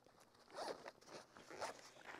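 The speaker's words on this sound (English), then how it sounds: "I open one of the sail bags" A zipper on a windsurf sail bag is pulled open in two quick rasping strokes, close and fairly quiet, with faint handling rustle between them.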